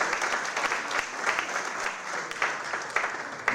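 Applause from an audience at a general assembly of the Order of Engineers of Congo: dense, brisk clapping from many hands with quick irregular claps, fairly close and steady for a few seconds.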